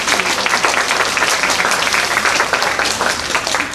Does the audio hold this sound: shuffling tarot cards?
no